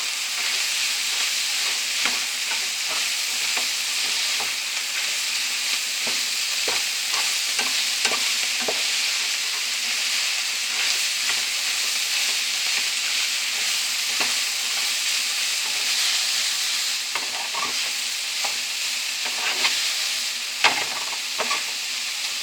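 Sausage and broccoli frying together in a pan, a steady close sizzle and hiss that runs throughout, with scattered clicks and scrapes from stirring and no talking.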